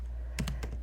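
Keys tapped on a 2024 MacBook Air keyboard while entering a terminal command: three or four quick, close, quiet keystrokes over a low background hum.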